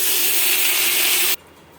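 Water poured into a hot pot of kaun rice pulao with fried cashews and raisins, giving a loud, steady rushing hiss that cuts off abruptly, leaving quiet background.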